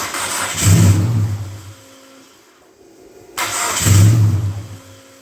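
A Dodge Neon stock car engine cranks in two separate bursts about three seconds apart, each a loud, close whir with a low rumble that stops without catching.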